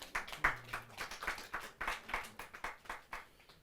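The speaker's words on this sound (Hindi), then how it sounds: "जोरदार ताली के साथ।" An audience at a Hindi poetry gathering claps in a quick, uneven patter of separate hand claps that hold at a steady level throughout, moderately distant, with no talk over it.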